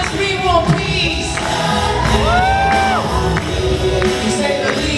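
A large crowd at a summit closing-ceremony concert shouts, whoops and cheers continuously, loud and close, with a sustained rising cry standing out midway and scattered claps.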